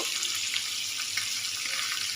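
Boal fish fries in a pan in a home kitchen, giving a short, moderately faint, continuous hissing sizzle with no voices over it.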